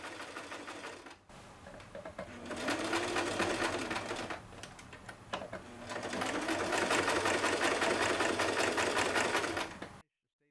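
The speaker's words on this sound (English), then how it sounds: "has been sewing a quilt for her youngest daughter" A home sewing machine stitches a quilt in two long runs of fast, even mechanical chatter, separated by brief stops, close and loud with no talking.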